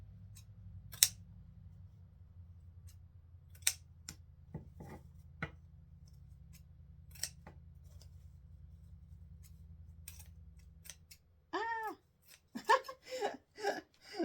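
Scissors snipping deco mesh tails for a dog-themed wreath, a few sparse crisp cuts over a low hum, then a cluster of quicker snips near the end.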